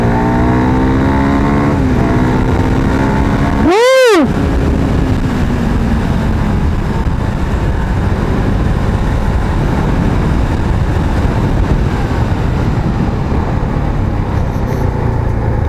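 A CF Moto 250 NK motorcycle with tuned engine software is ridden hard, its engine roaring loudly and steadily with a sweeping rev rise and fall near the start, mixed with strong wind rush.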